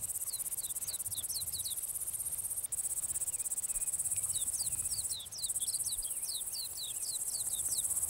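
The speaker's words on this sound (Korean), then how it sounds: "삽살이는 암컷을 찾는 울음소리가 그대로 이름이 된 메뚜기과의 곤충" Sapsari katydid, a Korean grasshopper-family insect, calls for a female from forest vegetation in short rapid chirping bursts that repeat in clusters over a steady high-pitched insect drone, loud and continuous throughout.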